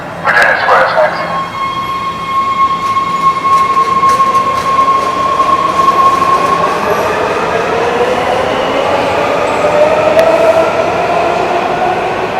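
Metro subway train stopped at the Virginia Square platform: loud rumbling and hum with a high sustained whine, sliding pitch sweeps as it moves, and faint clicks under the steady roar.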